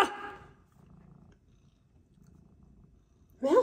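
Domestic cat purring close by, a soft steady rumble in the middle of the clip, framed by brief louder bursts of activity at the start and end.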